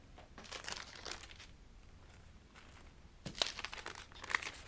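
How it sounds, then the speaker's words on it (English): Parchment paper crinkling as it is wrapped around a candle for a crafting transfer, a few soft, close rustling bursts spread across the stretch, with a sharper crinkle near the end. "you wrap the parchment"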